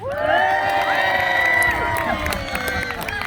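A crowd cheers for the Wild Man at an outdoor contest, a sustained mix of whoops and shouts from adults and children, with a presenter's voice running over the noise.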